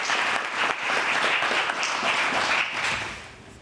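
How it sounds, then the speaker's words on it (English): An audience at a community violence intervention leadership academy kickoff gives a brisk, dense round of applause for the first cohort, steady and close before tapering off at the end. "Give a quick round of applause to those who."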